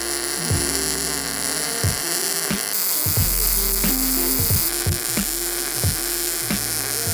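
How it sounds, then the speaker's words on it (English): Steel end cap plates are welded onto square tubing for bolt-on rock sliders on a 4th gen 4Runner, with a buzzing, crackling arc in repeated short bursts over a steady electrical hum. "you're gonna just weld these on here"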